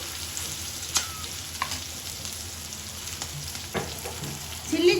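Vegetables sautéing in a pan for a soya chunk curry, a steady low sizzle with occasional stirring scrapes and clinks, close and continuous with no talk.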